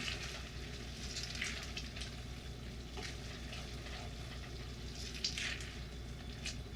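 Homemade spicy-sweet vegan marinara sauce warming in a pan, giving a soft, continuous low sizzle and gentle bubbling with occasional faint stirring, quiet and without voices.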